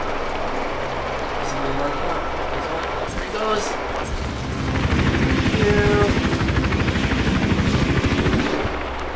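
Helicopter in the video game Hitman: Absolution, a loud, steady rotor thump and engine drone that swells midway through. A person talks over it.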